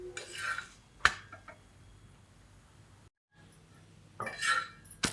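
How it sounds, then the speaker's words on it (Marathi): Fenugreek paratha roasting on a hot pan, with close spatula scrapes and rubbing against the metal, a sharp clink near the start, a brief dead silence midway, then another burst of scraping; no voices. "छान अशी भाजून घ्यायची पराठे."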